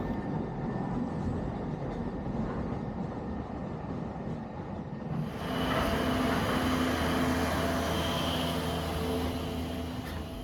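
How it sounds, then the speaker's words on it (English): A Snowdon Mountain Railway diesel locomotive heads downhill across a viaduct, its low rumble steady and moderately distant, then a brighter, louder rush of rail and mechanical noise joins partway through. "Diesel 10 Yeti heads downhill on the viaduct."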